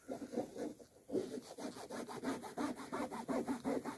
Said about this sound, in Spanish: Aquí estoy tallando